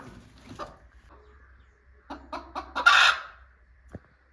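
A hen being settled onto eggs to hatch them gives soft, low clucks, then a quick burst of louder clucking and a squawk, close by and with no talking.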